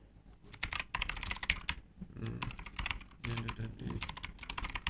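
Typing on a computer keyboard: bursts of close, crisp key clicks in uneven runs, with short gaps between flurries and no voices.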